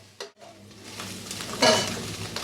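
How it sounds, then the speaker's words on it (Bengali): Soy chunks and three whole eggs fry in a pan, giving a soft hiss with a light clatter near the start and then a louder burst of sizzling partway through, with no talk. "এখানে সয়াবিন ফ্রাই করা হচ্ছে, আর এখানে 3টে গোটা ডিম ফ্রাই করা হচ্ছে।"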